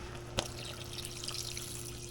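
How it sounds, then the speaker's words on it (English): Water goes into a pot of blue crab Sunday sauce after a splash of cooking wine, a brief splash followed by a soft steady pour and trickle, fairly quiet and close. "and then add our water."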